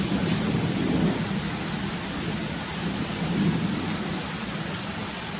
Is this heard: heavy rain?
yes